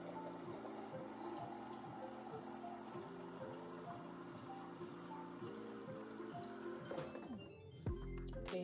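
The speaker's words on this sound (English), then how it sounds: "It does have the autofill water feature, and it counts in ounces for you" Water pours quietly from the autofill dispenser of a GE Cafe French door refrigerator into a container, a steady trickle with the pitch rising as it fills, then ending in a short clunk.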